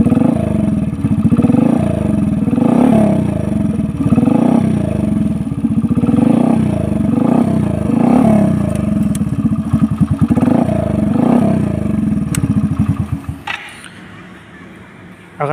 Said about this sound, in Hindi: यामा RX 135 का साइलेंसर है ये, RX 135 का साइलेंसर लगा सकते हो या RX 100 का साइलेंसर लगा सकते हो